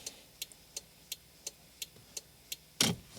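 The left turn signal of a 2015-2021 Subaru WRX ticks steadily, about three clicks per second, quiet and close, before a brief louder rustle near the end.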